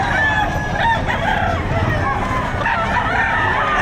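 A rooster crows loudly at a livestock auction market in Padre Garcia, Batangas, with some clucking hens and a steady murky background of farmyard noise.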